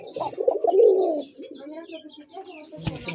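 Pigeons coo softly, with throaty, rolling calls close by, while people talk in the background.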